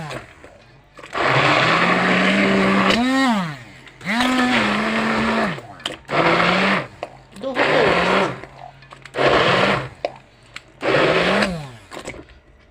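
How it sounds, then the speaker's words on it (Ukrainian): A hand blender whirs in five or six bursts, pitch rising and falling as it runs and stops, loud and close, pureeing cooked zucchini spread. "Тепер нашу страву збиваємо блендером."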